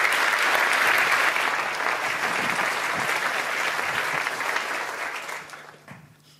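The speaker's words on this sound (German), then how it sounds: "Deshalb jetzt ein Applaus" Audience applause welcoming a speaker at a German-language talk on artificial intelligence, a full sustained ovation from a large hall that holds steady, then gradually thins and fades out near the end.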